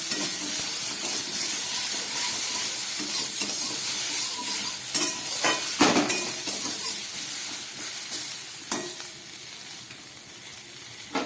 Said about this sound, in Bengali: নুন হলুদ আদা দিয়ে ভালো করে এটাকে কষিয়ে নিই